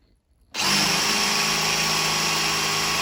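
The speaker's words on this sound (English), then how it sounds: "ordinarily you'd say, oh, this is a masonry drill. Watch this." A power drill fitted with a masonry bit starts up after a brief quiet moment, then runs loud and steady at high speed with a continuous whine and grinding hum.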